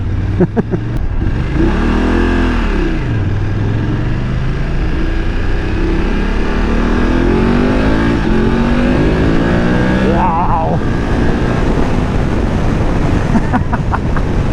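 A BMW F850GS Adventure motorcycle engine revs and accelerates up through the gears, its pitch sweeping upward repeatedly, loud and close amid rushing wind.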